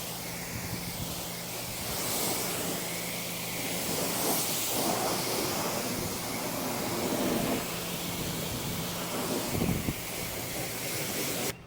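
A water spray rinses soap off a car windshield, producing a loud, steady hiss of spray hitting glass, up close throughout with slight swells in intensity and no talking.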